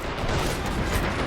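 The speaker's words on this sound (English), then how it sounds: "Let's throw a grenade in there." A grenade blast in the WWII strategy game Men of War: Assault gives a single short, loud, booming burst that fills the moment with dense rumble and no pause.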